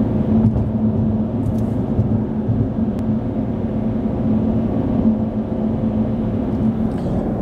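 Steady low engine and road rumble from inside a car driving at sunrise, continuous and even throughout with no talking.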